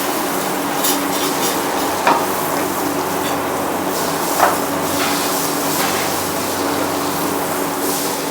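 Butter sizzles steadily in a hot pan, a soft continuous hiss with a couple of brief clinks of a utensil against the pan.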